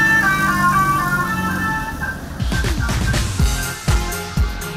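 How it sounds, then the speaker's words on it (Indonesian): An Indonesian odong-odong kiddie ride car sounds a telolet basyuri horn, a melodic multi-tone bus horn, for about two seconds. Rumbling engine and street noise with a few sharp knocks follow. "mobil odong-odong sekarang sudah dipasang alat telolet basyuri yang biasanya digunakan oleh bus penumpang"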